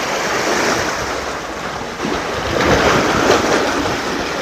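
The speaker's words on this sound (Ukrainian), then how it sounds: "сьогодні трішки хвиля така, ну на морі трішки приплив" Waves wash onto an Egyptian sea shore on a slightly choppy day with a rising tide, a steady, loud broadband rush that swells briefly near the end, with wind buffeting the microphone and no voices.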